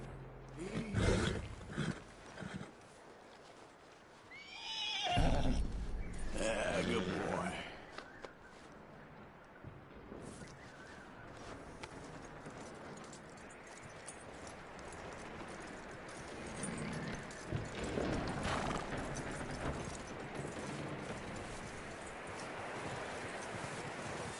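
Horse hooves clop and a horse snorts and neighs over a dense ambient background in Red Dead Redemption 2, loudest early on, then fading into a steady rumble.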